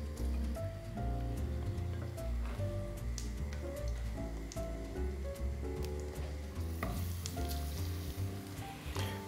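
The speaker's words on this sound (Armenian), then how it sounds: "Խմորապատելուց հետո անմիջապես կտապակենք։" Batter-coated chicken breast frying in a pan, a steady loud sizzle with dense crackling pops and spatters throughout, no voices.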